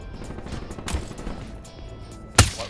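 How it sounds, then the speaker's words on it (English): Sniper rifle fire in the video game Black Ops 3, heard as a sharp, loud crack near the end after a softer thud earlier, set against low, muffled game background noise. "Ooh, just sniped that guy in the head."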